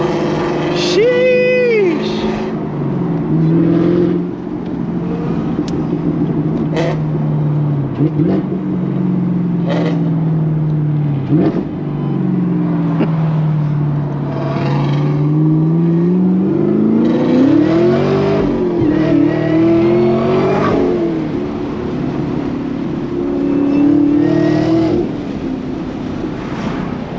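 A Chevrolet Camaro ZL1 1LE engine drones and rises as the car is driven through rain, its pitch climbing and falling with repeated gear changes, loud and near over a steady wash of tyre and road noise.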